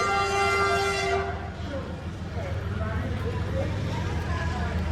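A train pulling into a railway station, with a horn-like harmonic tone in the first second giving way to a steady low rumble of rolling rail cars, and station bustle and voices underneath.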